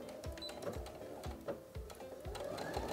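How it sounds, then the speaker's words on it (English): A sewing machine stitches around the back of a shorts waistband from one side seam to the other, running at a slow, even pace with a rapid rhythmic needle clatter, close and fairly quiet, with no talking. "and then sew right around until you get to the other side seam"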